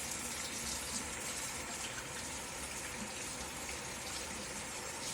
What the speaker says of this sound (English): Sorry, I have to wash my hands.